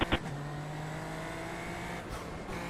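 A Formula Lights race car engine in a racing video game drones steadily at a distance, with a couple of sharp clicks at the start and brief swells near the end.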